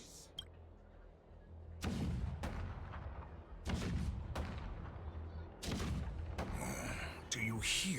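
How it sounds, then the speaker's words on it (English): Cannon fire in Honkai: Star Rail, loud booming blasts arriving in several heavy bursts with rumbling decay between them, layered over a low continuous game soundtrack. "The rumble of the cannons."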